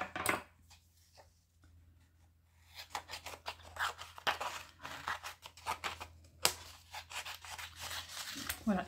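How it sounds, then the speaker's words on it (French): A small object is cut in two, with rubbing, snipping strokes in irregular bursts, close and fairly quiet, following a near-silent pause at the start. "je vais la couper déjà en deux"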